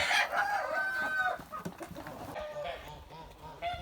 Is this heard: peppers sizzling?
no